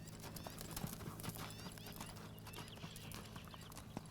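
Hooves of a horse being ridden at a lope, soft rhythmic thuds at moderate distance under steady low background hum, with faint outdoor noise.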